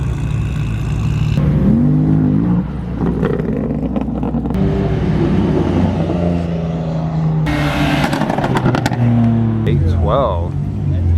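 A Porsche drives through an illegal car meet, its engine revving and rising in pitch as it passes close by. A loud idling exhaust rumbles underneath the whole time, and people talk over it.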